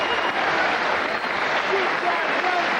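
Crowd applause at an amateur boxing match in a gym, a steady wash of clapping and cheering from the audience that continues without a break, with a commentator's voice running over it.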